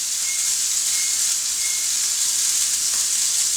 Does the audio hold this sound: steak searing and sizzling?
yes